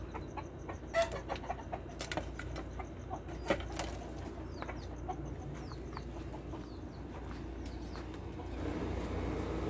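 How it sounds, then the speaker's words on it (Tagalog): Several chickens cluck and chatter close by, with scattered sharp calls over a low steady background hum. "Dami ng manok."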